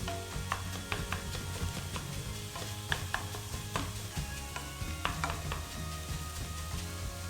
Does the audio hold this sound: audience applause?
no